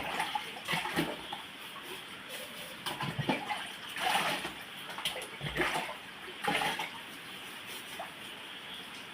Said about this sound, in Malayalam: റബ്ബർ വെച്ചൊന്ന് തേച്ച് കഴുകി നോക്കാം